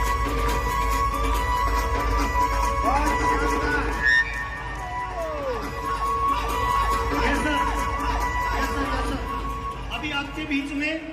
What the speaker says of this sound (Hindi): एक बार जोरदार तालियों से सम्मान लेंगे हमारे डांस परफॉर्मेंस को।